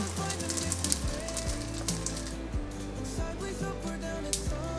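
Nori 'fish' with yam filling frying in a pan of oil, a continuous moderate sizzle with light popping, close by and without talk.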